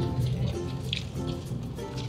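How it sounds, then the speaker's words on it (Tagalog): Rain falls steadily on a drive out of the city toward possible traffic and flooding, a soft continuous patter with a few brighter drip sounds, fairly faint and with no voices. "Ang nag-uulan-ulan."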